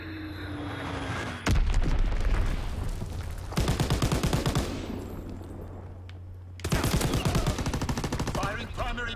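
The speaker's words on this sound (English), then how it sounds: "Dropping Fritz X-Bomb." In Call of Duty WWII, a Fritz X guided bomb falls with a descending whistle and slams into a heavy blast. Later stretches bring further loud bursts of rapid, crackling fire and explosions, with quieter rumbling between them.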